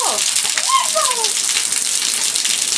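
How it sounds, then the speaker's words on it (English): Steady rain hisses across a surface close by, broadband and unbroken, with a few brief voice-like chirps or squeals cutting through early on. "it's going to stop raining"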